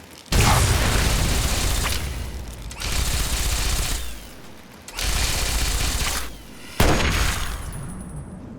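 Bursts of gunfire from the player's weapon in Fallout 3, four sustained loud volleys of rapid shots separated by short quieter gaps, with mechanical clatter between.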